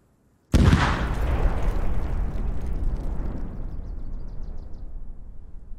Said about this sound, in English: we hear a variation of the initial explosion sound, obviously this time further away and also less pronounced.